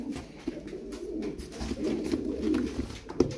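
Turkish tumbler pigeons kept as play birds in a coop coo steadily in low, rolling tones. Several birds overlap, with light fluttering and scuffing nearby.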